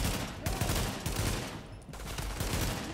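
Rapid video game gunfire from an underground run with a Predator's Mark build, dense bursts of shots crackling continuously and fairly loud across the whole stretch.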